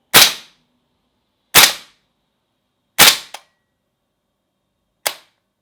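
An HK G3A3 gas blowback airsoft rifle fires BBs indoors, four sharp, loud, close cracks spaced about a second and a half apart, the third followed by a quick mechanical clack, with silence between shots.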